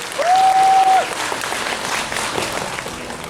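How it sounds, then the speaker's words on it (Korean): Audience applause breaks out at a K-pop fan meeting photo time in a hall with a second-floor balcony, a steady broad clatter of many hands under a host's brief sustained voice early on. "박수 부탁드리겠습니다."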